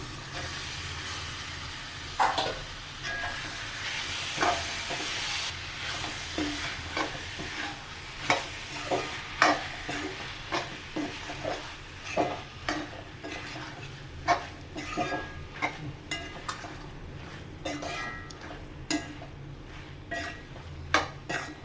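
Steady frying sizzle with repeated scraping and clinking as prawns are stirred in a metal pan, close up, no voices.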